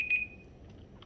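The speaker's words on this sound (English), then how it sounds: "there's my buzzer" A kitchen-style timer buzzer sounds with one short high electronic beep at the start, then fades quickly, leaving only quiet room noise during a wet-on-dry watercolour painting lesson.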